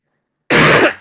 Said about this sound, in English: It's left NCR in a coughing fit at the moment.